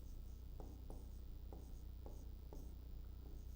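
Writing on a board or paper during a class 10 physics lesson on reflection of light, a series of separate short scratchy strokes at an even pace over a steady low hum, no talking.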